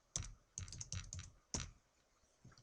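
Close, quiet keystrokes on a computer keyboard tap out a short word in a few irregular bursts, with soft clicks spread over under three seconds and no talking.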